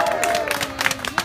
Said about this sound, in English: who's going to cheer for my wonderful volunteer